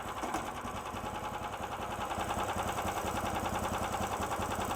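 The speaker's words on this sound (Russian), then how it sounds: "пока работает мотособачка" A SnowDog B420 Sport motorized towing dog engine idles steadily after warm-up with the choke off, a continuous, even, fairly loud mechanical chug with no talk over it.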